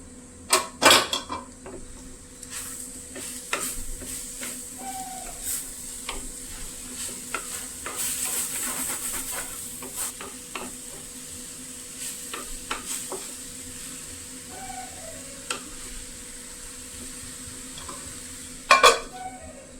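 Bitter gourd and dried fish cooking in a clay pot, with a steady low sizzle, intermittent scraping stirs and creaks, and a louder clatter near the start and again near the end.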